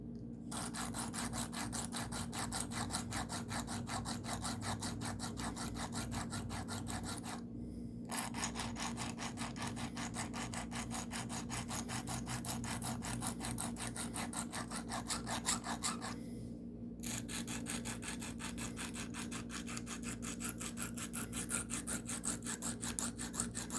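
A pocket knife blade is sharpened with steady, rhythmic scraping strokes that continue close and evenly for over twenty seconds, broken by two brief pauses, with no talking.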